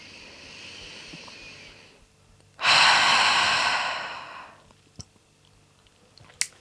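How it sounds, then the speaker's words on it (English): At the close of a vinyasa yoga class, a single deep exhale rushes out loud and breathy for about two seconds after a softer inhale, followed by a few faint clicks in a quiet room. "Let's seal our practice with one deep releasing breath."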